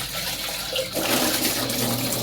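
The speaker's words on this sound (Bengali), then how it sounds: "শেষ আমার চায়ের পাতিল ধোয়া" Tap water runs loudly while a tea pot is washed in a family kitchen, a steady rushing stream that grows stronger partway through, with no voices.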